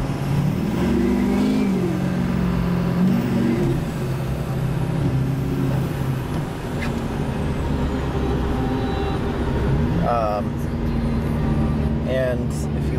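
A Duramax diesel engine holds a steady, loud drone with the accelerator pedal floored, its pitch wavering slightly while someone talks over it throughout.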